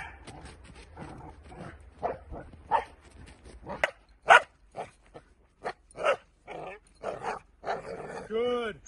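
A protection dog in training barks in short sharp bursts, close and loud, scattered among a trainer's speech and brief pauses, with a few yips and quick whimpers and a rising whine at the end.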